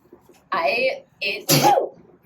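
A single close, sharp sneeze bursts out after a couple of brief throat-like noises, set among casual conversation between friends indoors.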